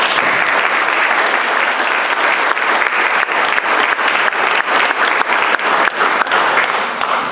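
Sustained applause from a town meeting crowd, dense and steady clapping throughout without a break, loud and close, with no speech over it.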